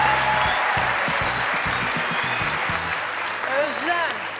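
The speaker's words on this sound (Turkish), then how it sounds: "Alkışlıyorlar ama bak." A studio audience applauds on the Turkish TV talent show O Ses Türkiye, a steady wash of clapping running throughout while rhythmic music pulses underneath and a voice briefly rises near the end.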